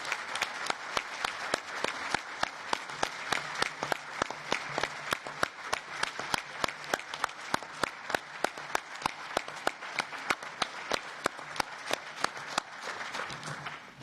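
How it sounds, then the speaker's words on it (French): Audience applause at an EU civil society debate on post-Brexit relations with the United Kingdom, a long run of sustained crowd clapping with sharp, regular claps standing out, steady and moderately distant throughout. "Michel Barnier, l'applaudissement dit tout notre remerciement"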